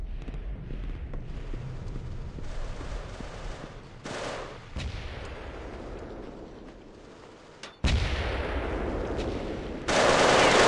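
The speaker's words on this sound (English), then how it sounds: "D-Traff is in a firefight with, appears to be Slide L over here" Rapid automatic gunfire and explosive grenade blasts in a first-person shooter match, sustained bursts with louder bangs near the end, no talk over them.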